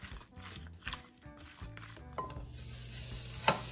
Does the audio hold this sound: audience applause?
no